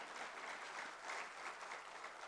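A crowd at a Golkar Party regional congress in North Sulawesi gives brief, continuous applause. The clapping is faint and distant, a soft even wash with no voices over it.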